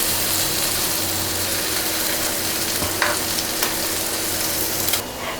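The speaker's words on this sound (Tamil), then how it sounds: "நல்லா ஃப்ரை பண்ணி எடுத்துக்கலாங்க." Paneer cubes frying in a pan for a paneer and peas pulao, with a dense continuous sizzle throughout and a couple of brief knocks as the pieces are turned.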